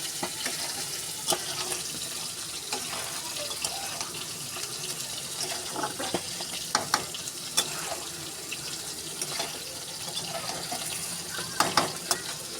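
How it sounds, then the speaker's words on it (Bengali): Chicken meat stirred in a pan, with soft continuous scraping and sizzling under a watery, running-tap-like hiss and scattered sharp clicks of a spoon against the pan. "মাংসটা একটু ভালোভাবে নাড়িয়ে নেব।"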